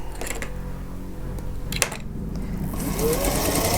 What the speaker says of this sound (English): I'm going to sew right off.